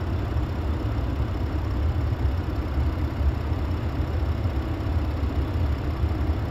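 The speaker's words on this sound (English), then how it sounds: "Truck is idling right now." A 2013 Ford F150 pickup truck engine idles with a low, steady rumble, close and continuous, while a vacuum pump is hooked to its brake booster line.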